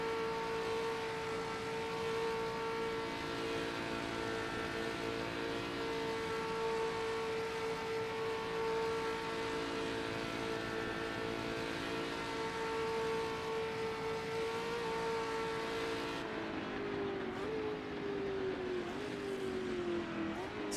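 Historic endurance race cars lapping in the Assetto Corsa simulator at the 12 Hours of Le Mans, with a loud, steady engine drone held at high revs that drops and shifts pitch near the end as the car brakes and downshifts.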